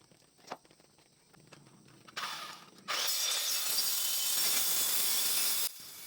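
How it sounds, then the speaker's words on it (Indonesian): A saw grinds against thick coconut root wood, struggling to bite. After a few quiet scrapes and knocks, a loud, harsh, sustained cutting rasp runs for about three seconds and then stops. No one speaks. "kami mengalami kesulitan untuk memotong karena memang tebal sekali dan gergaji sama sekali tidak makan untuk memotong kayu kelapa"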